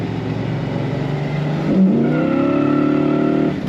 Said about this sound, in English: just hit the throttle and burn the tires